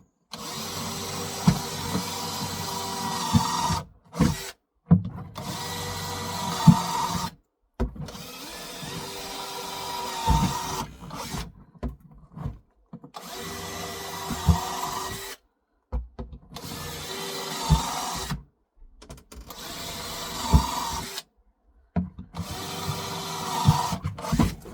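A power drill bores holes in short bursts, each whirring run separated by brief silences, close and fairly loud with no talking.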